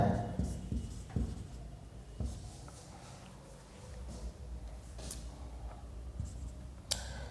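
Chalk or a marker scratches across a board in short strokes and taps, faint and intermittent, while a teacher talks throughout.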